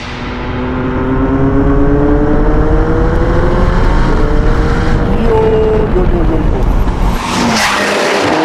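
A McLaren 720S Spider widebody supercar accelerates hard through second gear, its loud engine note climbing steadily in pitch close by, easing briefly near the end with a sharp burst before carrying on.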